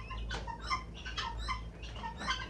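A pet pheasant calling up close, a run of short chirping notes repeated in quick bursts with no talk.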